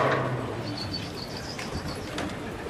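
Pigeons in a loft of about 200 birds give soft cooing calls and faint chirps, fairly quiet and close, with a light flutter of wings as some start to take flight.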